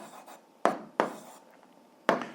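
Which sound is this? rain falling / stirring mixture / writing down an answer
writing down an answer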